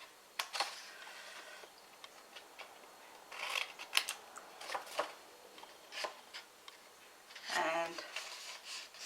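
Scissors snip around paper squares for a Christmas table favor pouch, giving scattered crisp cuts and rustles close by, with a quiet voice speaking over part of it.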